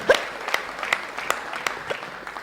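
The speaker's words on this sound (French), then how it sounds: "je vous prie d'applaudir très fort pour cet homme vaillant" Scattered claps from an audience at a comedy night honoring a deceased family man, fairly faint and sparse, with individual claps standing out over a low room murmur.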